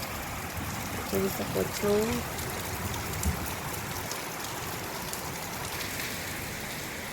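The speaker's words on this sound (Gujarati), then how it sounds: "જો હવે સ્પીડ પકડી રહી છે વરસાદ" Rain falls steadily outside and picks up speed as a soft, even hiss of drops on surfaces, while someone speaks quietly over it indoors.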